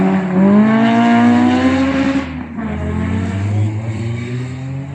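A Caterham race car drives loudly on track at Cadwell Park during a track day, its engine note rising steadily then dipping briefly as it crosses a curb before pulling strongly again, with steady road and wind roar throughout.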